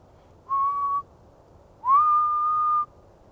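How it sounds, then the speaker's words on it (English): Two clear whistled notes in a quiet space: a short steady tone, a pause, then a longer one that rises and holds. "trying to whistle to get them all riled up"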